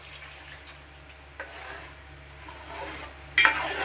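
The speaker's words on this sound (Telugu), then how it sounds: "టమాటీ బాగా మగ్గిన తర్వాత ఇలా బాగా మగ్గిన తర్వాత చింతపండు పులుపు వేసుకోవాలండి." Tamarind juice is poured onto soft-cooked tomatoes for a ginger rasam and stirred in, making a low simmering bubble with light utensil clinks and a louder splash of liquid near the end.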